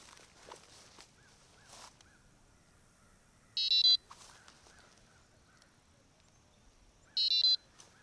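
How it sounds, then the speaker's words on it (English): Carp fishing bite alarms on a budget rod pod sound two short, loud electronic beeping bursts a few seconds apart, over faint rustling and footsteps outdoors. "When the fish runs with the bait, the alarms go off."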